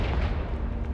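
A Confringo blast spell goes off in the video game Hogwarts Legacy, a loud, sustained booming burst of explosive rumble filling the whole short moment with no speech over it.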